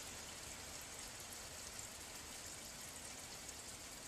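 A 1970 American Standard Cadet toilet flushes with a steady, full rush of water that holds evenly for the whole stretch, close up and alone, with no voices.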